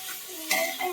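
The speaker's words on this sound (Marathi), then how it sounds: "आता चांगलं सगळं मिक्स करून घेणार तेलामध्ये परतून" Peas being stirred in hot oil in a pan make a short, close sizzle with a couple of soft scraping stir strokes over about a second.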